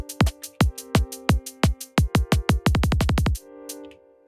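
Drum and bass kick drums programmed on an Elektron Tonverk hit in punchy, evenly spaced beats that speed into a rapid roll before stopping, with a sustained tonal pad beneath, close and alone.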